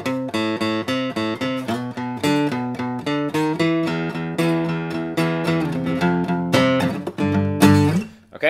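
An acoustic guitar plays the intro in steady, rhythmic plucked notes with ringing harmonics, close and clear, with no voices.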